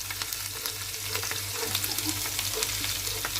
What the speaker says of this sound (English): We'll fry it for a minute on a medium flame.